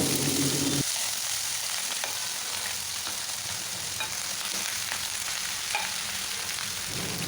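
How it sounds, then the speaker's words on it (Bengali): Whole spices frying in hot oil in a pan for a Bengali mixed-vegetable dish, a steady close sizzle holding for several seconds with no talking. "গোটা মশলাটাকে 30 সেকেন্ডের জন্য একটু ফ্রাই করে নেব।"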